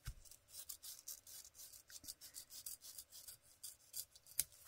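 A knife scrapes the backing off a paper journalling card in quick, repeated rasping strokes, soft and close, with a slightly sharper scrape near the end.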